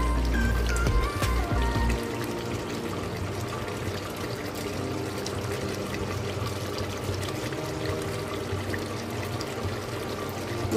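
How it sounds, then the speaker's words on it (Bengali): Yogurt water is poured into a pot of onion- and garlic-free Bengali mutton curry, a steady splashing pour that starts heavy and settles into a continuous trickle and sizzle over several seconds, with no talking. "আর এবার আমি জলটা দিয়ে দিচ্ছি।"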